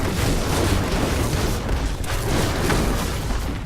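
Dense, continuous explosions in the video game Diablo 3, a hardcore wizard's spells producing overlapping booms and blasts with rumbling low end, loud and unbroken for several seconds.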